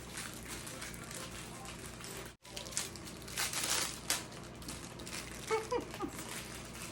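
Packaging crinkles, rustles and crunches in irregular bursts as a Kurt Geiger London large Kensington tweed shoulder bag is unwrapped close up, fairly quiet, with a brief gap midway and small rattles near the end.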